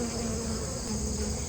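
Honey bees drone steadily at a beehive, a dense, continuous close buzz of many insects with no voices.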